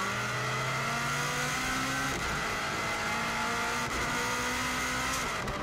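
A 2016 Subaru WRX STI climbs the Isle of Man TT course, its engine revving hard through rising gear pulls with abrupt shifts, loud and close from inside the cabin, no voices.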